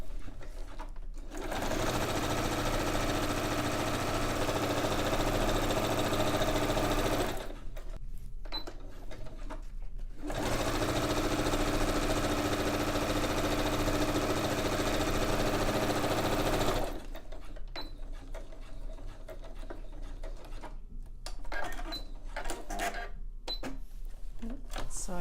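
A sewing machine stitches straight reinforcing lines on fabric grow bags, running in long steady bursts of rapid mechanical whirring separated by brief pauses and handling sounds, close and fairly loud.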